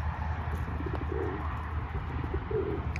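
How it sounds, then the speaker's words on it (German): Soft, low cooing from a pair of King pigeons repeats a few times over a steady background hum, fairly quiet and close. "Diese King-Taube und seine Täubin."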